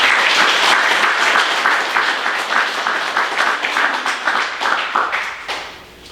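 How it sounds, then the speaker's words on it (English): Audience applause at a trucking company safety awards banquet, a room full of clapping that pulses unevenly and fades out near the end. "So great round of applause for our 15 new rookies"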